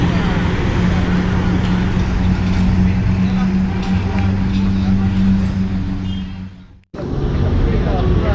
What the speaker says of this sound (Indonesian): dari arah Bukit Tinggi ada bus Epastar yang juga tujuan kota Palembang. Kalau ini menggunakan mesin Hino AK yang bermesin depan.